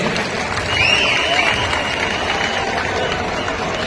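Applause from the audience for a student at a J.G. College of Commerce alumni reunion, a steady wash of clapping that lasts the whole stretch and swells slightly near the start.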